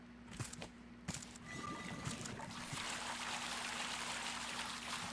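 Water pours from pump nozzles in the survival game RAFT, beginning as faint trickles after a few soft clicks, then swelling into a steady, close rushing flow that holds to the end.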